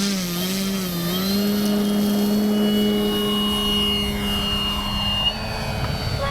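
An Avios Grand Tundra V2 RC bush plane takes off with normal flaps, its electric motor giving a steady high whine that rises slightly in pitch, loud and near, with no talking.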